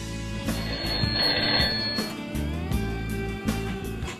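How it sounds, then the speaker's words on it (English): A telephone rings with an incoming call, its bell trilling in repeated bursts at moderate distance over a steady background hum. "Today we find Owen receiving strange phone calls from a mysterious stranger."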